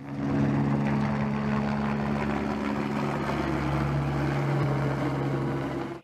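A SAMU medical rescue helicopter flies nearby with a loud, steady rotor and engine drone that holds at an even level throughout.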